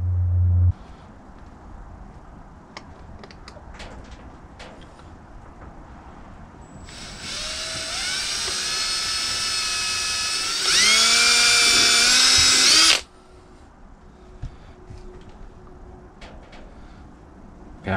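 A power drill whirs in a workshop while driving into an RC car part, rising in pitch and ending in a louder, higher burst before stopping abruptly. It is close and steady, with no voices.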